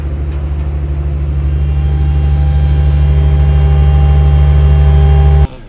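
Heavy diesel engines of two medium-sized excavators lifting a long bridge frame over a canyon, a loud, steady low drone held for several seconds before cutting off abruptly near the end.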